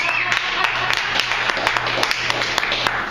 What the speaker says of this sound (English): pity clap.